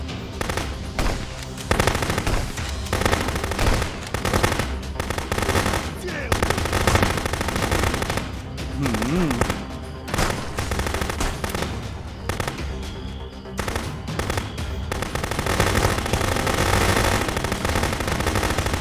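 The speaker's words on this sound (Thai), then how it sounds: "พยายามยิงให้แม่นๆหน่อยนะครับเพื่อน" Rapid machine-gun bursts and scattered gunshots in the police video game Contraband Police, loud repeated volleys with short pauses, heavy and continuous through most of the stretch.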